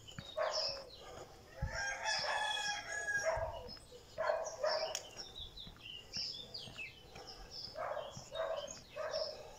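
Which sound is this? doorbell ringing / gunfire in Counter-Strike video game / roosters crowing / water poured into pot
roosters crowing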